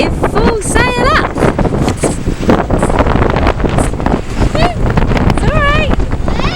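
Steady wind rushes across the microphone aboard a Hanse 291 yacht sailing under full sail in about 11 knots, with water and boat noise beneath and people talking throughout.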